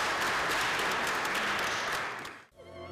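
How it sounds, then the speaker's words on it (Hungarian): A packed festive hall erupts in sustained applause for performers of Hungarian folk-style songs, dense steady clapping that fades out near the end. "A közönség vastapssal fogadta a mulatos nótákat előadó művészeket."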